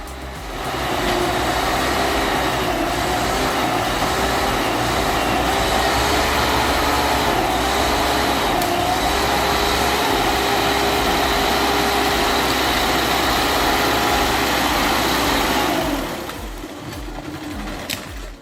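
A turbocharged LKT81 forestry skidder engine runs steadily at high load, a loud continuous drone with a faint whining tone, holding constant for about sixteen seconds before dropping off near the end.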